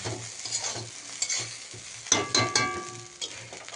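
Chow mein for an evening snack sizzles in a pan as soy sauce goes in, with close, uneven scraping and stirring strokes over a steady frying hiss and a few sharp metallic clinks.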